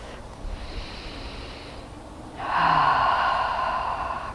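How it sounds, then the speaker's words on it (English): Slow, deep breathing during a guided healing meditation: a soft, drawn-out inhale, a short pause, then a longer, louder exhale, close and unhurried. "Breathing all the way down into our bellies, exhaling slowly."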